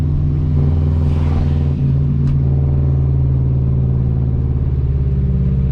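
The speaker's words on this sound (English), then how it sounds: "this exhaust is extraordinarily loud" A loud, deep engine of a 2004 Subaru STI drones and revs up close, its loud exhaust rumbling steadily with a throaty, harmonic growl.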